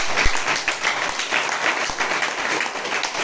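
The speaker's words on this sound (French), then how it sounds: "Acclamez pour le Seigneur." Church congregation at a worship gathering in Bobo applauding, a dense, steady wash of many hands clapping at moderate loudness for several seconds.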